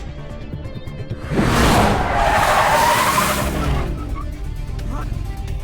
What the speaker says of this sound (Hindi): अभी जोर से ब्रेक मारना